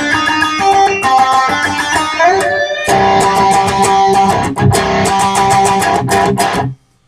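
Electric guitar rhythm part played in octaves with a chorus effect, loud and continuous with dense strummed chords and bright repeated attacks, stopping abruptly near the end.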